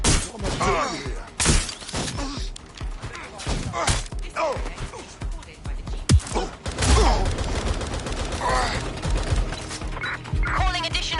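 Rapid gunfire bursts and sharp impacts in a PS4 police shooter game, close and loud, mixed with barking dogs and shouted voices, with several people talking throughout.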